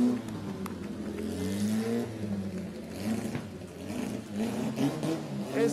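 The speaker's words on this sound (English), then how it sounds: "and above all to hear, Formula One cars on the terrace at Villa d'Este?" Formula One cars on the terrace at Villa d'Este during a concours d'elegance parade: loud, continuous engine drone that rises and falls in pitch as the cars rev and accelerate nearby, with no talk over it.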